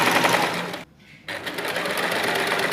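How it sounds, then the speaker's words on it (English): A sewing machine stitches the hem of a balloon-sleeve blouse, its steady rapid motor whir running loud and close, briefly pausing before resuming at the same even pace. "So right now I've started hemming the sleeve."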